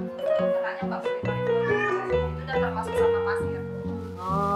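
Cats at a pet-shop cat boarding place meow in drawn-out, wavering calls, one after another, with people talking over them nearby.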